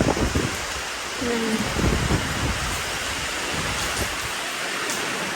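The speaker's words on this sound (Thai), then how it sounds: "ฝนตก" Steady rain falls as a dense, even hiss throughout, fairly loud and close, with a few faint low rumbles and a brief tonal sound early on.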